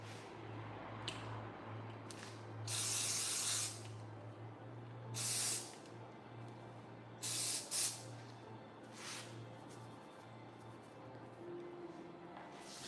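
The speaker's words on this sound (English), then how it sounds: "I'm going to be using this root volume to create volume on the roots" Root volume hair spray hisses from a can in a few short bursts of varying length, close and fairly quiet, with gaps of low background hum in between.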